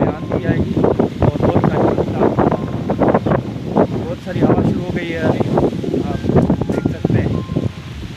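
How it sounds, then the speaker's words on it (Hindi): Strong wind in a village before rain buffets the microphone in loud, rough gusts, with someone talking over it throughout. "बहुत तेज़ हवा चल रही है"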